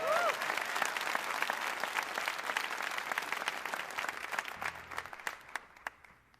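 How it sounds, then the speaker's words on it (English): Concert audience clapping for a band between songs, a loud wash of applause that thins and fades toward the end into scattered individual claps, with brief tonal sounds near the start. "You can clap. It's okay."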